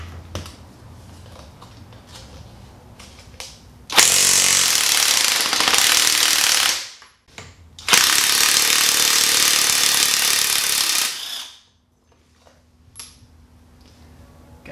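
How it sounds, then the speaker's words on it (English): An electric impact wrench with a 22 mm socket hammers at the top strut bolt of a Pontiac Fiero rear strut, giving two loud sustained bursts of about three and four seconds with a brief pause between them. "I've got my electric impact wrench"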